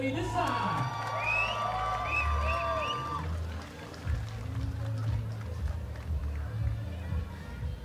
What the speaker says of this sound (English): And expect a big shout here from the crowd.